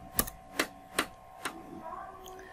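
Keyboard keys struck four times in a slow, uneven rhythm while a web address is entered, each click crisp and close, followed by a faint tone.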